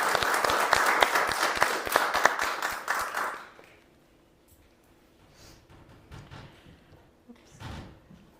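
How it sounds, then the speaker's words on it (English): A church congregation applauds musicians at a spiritual living center, a dense burst of clapping for about three seconds that stops abruptly, followed by quiet room sounds and a few faint thumps. "Let's give them another round of applause for their beautiful musicianship."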